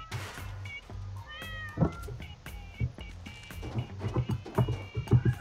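Cats meowing repeatedly in Goat Simulator's Payday mode, several overlapping mewing and caterwauling calls in quick succession, fairly close and loud, with game thumps and clatter underneath.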